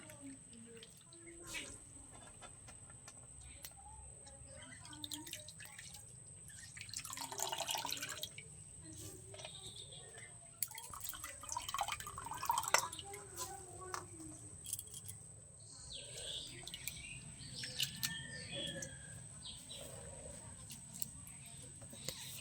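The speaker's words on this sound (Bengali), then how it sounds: "বারবার জল পাল্টিয়ে ধুয়ে নেব।" Potatoes being washed in a bowl of water, soft sloshing, dripping and splashing, close and fairly quiet, with a talking voice over parts of it.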